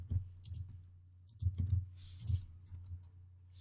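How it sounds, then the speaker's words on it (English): Computer keyboard keys tapped in short irregular bursts, close and fairly quiet, with small gaps between clusters of clicks and no voice. "And I'm going to type the following."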